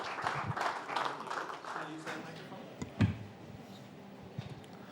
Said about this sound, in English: A round of applause as Ben comes to the podium.